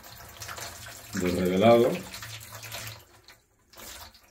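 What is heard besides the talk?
water poured over a wet-plate photograph to stop developing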